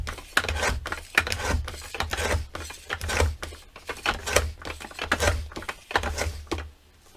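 Paper trimmer cutting paper for a handmade mini book, a rapid series of close, crisp clicking slices and scraping strokes in an uneven rhythm, with no talking.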